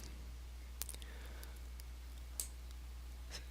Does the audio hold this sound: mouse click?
yes